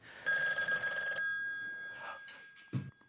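A stage sound-effect telephone rings once in a bright electronic trill lasting about a second, followed by fainter tonal echoes and a sharp low thud at the end.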